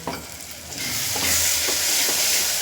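A curry with coriander and cumin powder sizzling steadily in a pan while being stirred, with a bright continuous hiss and occasional scraping, close and without talk.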